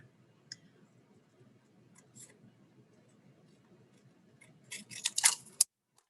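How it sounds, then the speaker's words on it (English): Scissors cut paper for a memory folio craft project, a few soft isolated snips followed by a quick, crisper cluster of cuts near the end, close and quiet with no talking. "just take your scissors and just cut around them right quick"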